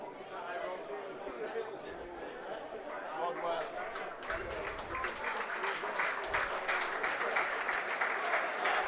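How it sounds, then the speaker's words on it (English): Spectators at a Swinton Lions vs Wakefield Trinity rugby league match in the Betfred Championship applaud as Trinity players leave the field. The clapping builds gradually under crowd chatter and nearby voices. "Round of applause for the Trinity players going off."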